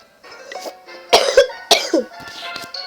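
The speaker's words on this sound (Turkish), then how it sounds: "Öksürüyorum." Several harsh, close coughs come in quick bursts, loud and raspy, with a bit of throat clearing between them.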